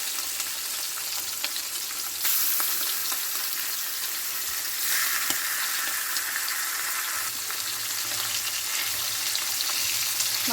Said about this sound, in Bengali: তেলের মধ্যে আমি সব ইলিশ মাছগুলো দিয়ে দিচ্ছি।